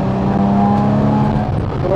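A Porsche Cayman race car accelerates on a circuit, its engine droning loud and close with a rising pitch, while a voice speaks over it.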